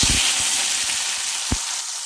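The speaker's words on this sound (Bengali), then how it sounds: "টমেটোগুলো হালকা করে ভেজে নেব" Tomatoes frying in hot oil with cumin seeds and bay leaf in a pan, a loud, steady sizzle with a few low clunks, as if from stirring, near the start and middle.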